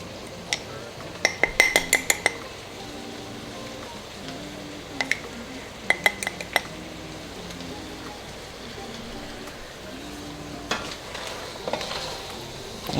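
Flour is stirred into beef neck bones in a pot over a low, steady sizzle, with bursts of clinking and scraping from a spoon against the pot, close by, and no voices.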